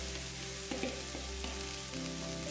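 Chopped bhindi (okra) fries in hot oil with turmeric and garlic in an Indian home kitchen, a loud, close, continuous sizzle with faint stirring scrapes and no voices.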